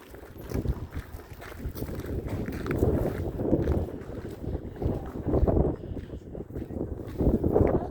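Gusty wind blows outdoors at a hilltop stone site, buffeting the microphone with steady low rumble and surging gusts throughout, no talk.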